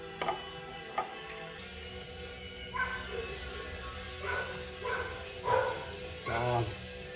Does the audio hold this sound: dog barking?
yes